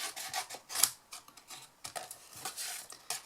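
Scissors snip and rub through a craft piece for a miniature tree-lot camper, making a quick series of close, crisp cuts and scraping strokes with short pauses between them.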